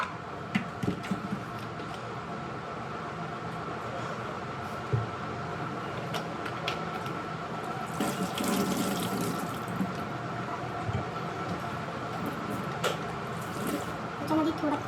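Water runs from a kitchen tap into a sink and splashes unevenly for a while, with someone speaking over it throughout.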